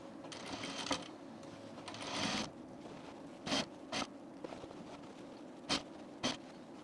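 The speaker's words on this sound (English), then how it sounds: "we're going to sew this with a 1/2 inch seam" A sewing machine stitches a half-inch seam on a denim jean jacket at regular stitch length, running in a few short bursts with soft mechanical clicks and pauses between them.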